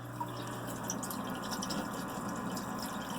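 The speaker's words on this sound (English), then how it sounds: "you guys can see here the water just flows out nicely" Water trickles and drips out of a Lifegard Aquatics Top Flow Nano Turbo Reactor installed in an aquarium, a faint, steady flow with soft splashing and no voices.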